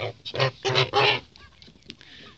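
A Muscovy duck gives a few loud, raspy honking calls in quick succession, followed by quieter hisses and soft rustling nearby.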